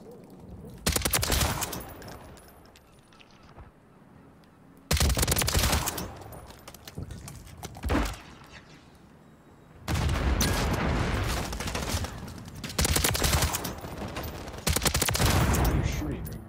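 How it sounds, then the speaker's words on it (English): Video game gunfire comes in several loud sustained bursts separated by quieter gaps, close and dense, with people talking in between. "Why are you shooting me?"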